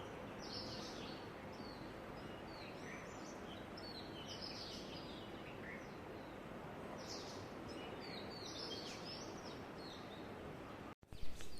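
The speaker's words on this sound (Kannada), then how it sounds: "ಪಕ್ಷಿಗಳ ಚಿಲಿಪಿಲಿನೂ ಕೇಳ್ಬೋದು ನೀವು." Birds chirp faintly in the open air at sunrise around 6:30 in the morning, scattered high tweets over a soft steady background hush, ending with a brief knock or handling thump.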